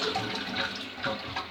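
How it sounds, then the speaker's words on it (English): A toilet cistern in a British home flushes, with water rushing and pouring steadily through the bowl and cistern, close and moderately loud, with no voices over it. "I'm going to flush my one."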